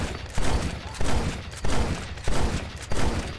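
Gunfire in the video game Red Dead Redemption on PS3, a run of about six loud shots spaced roughly half a second apart, each a sharp crack with a short tail, no talking over them.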